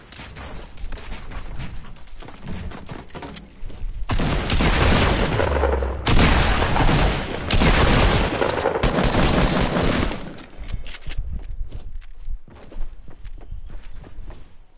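Sustained video game gunfire rattles on in overlapping machine-gun bursts and individual shots from several shooters, loud and close, swelling through the middle and thinning out into scattered shots and footsteps toward the end.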